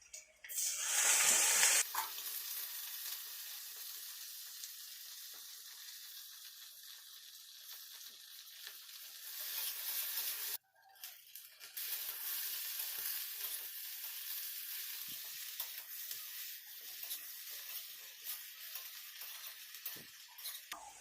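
Chopped tomatoes fry in a pan over a chilli tempering, giving a steady hiss that stays close and even, with a brief louder burst at the start and a short gap midway.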